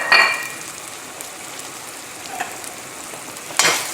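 Shrimps sizzle in butter and olive oil in a pan, a steady bright frying hiss with a louder burst of sizzle at the start and again near the end, with no voices.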